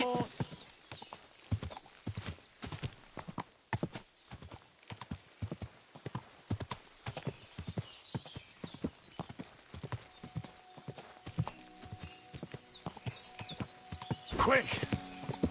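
Steady clip-clop of horse hooves in Kingdom Come: Deliverance 2, a brisk rhythmic gait that runs the whole time, with a whinny and some game voices speaking over it near the end.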